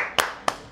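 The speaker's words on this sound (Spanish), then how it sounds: "hasta el público aplaude" Two sharp claps a third of a second apart, close and crisp, from a studio audience during a Spanish-language evening talk show.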